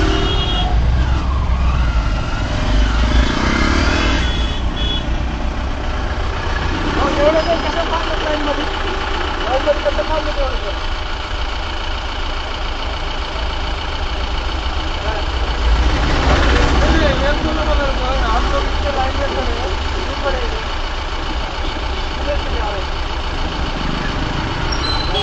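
Slow, congested Pune road traffic with vehicles idling in a queue while others pass on the right, a steady engine rumble throughout, a siren-like tone briefly rising, and people talking over it.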